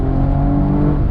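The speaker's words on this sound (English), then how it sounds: "Beautiful backfire exhaust note" Mercedes-AMG E53 Cabriolet exhaust revving hard in a brief, loud, continuous burst, a close rumbling engine note with no talk over it.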